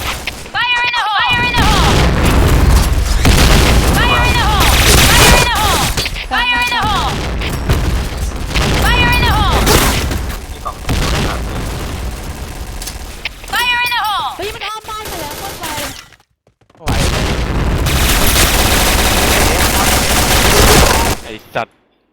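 Rapid bursts of automatic gunfire and booming blasts from the shooting game Point Blank, loud and nearly continuous, with voices talking over it and a brief pause near the end.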